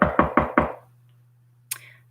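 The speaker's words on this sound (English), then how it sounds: "The Lion now walked to the throne room and knocked at the door." Four firm knocks on a throne-room door in quick even succession, close and loud, followed by a low steady hum and one fainter later tap.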